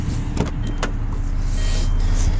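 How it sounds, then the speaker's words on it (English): Power windows on a 2000 VW Beetle run with a steady electric motor whine under the car's low engine hum, broken by a few short clicks and knocks early on. "does have power windows, and the power windows work."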